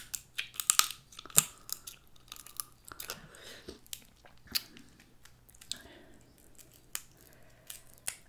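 Snow crab legs cracked and crunched between the teeth during a seafood eating session, a string of sharp close snaps and crackles with softer chewing and squishing between them, and no talking.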